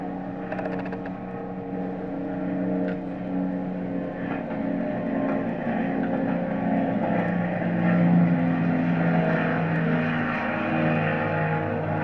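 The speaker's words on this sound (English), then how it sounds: "Airplane on takeoff." A steady, droning propeller airplane engine roars continuously, growing slightly louder midway as it powers up for takeoff.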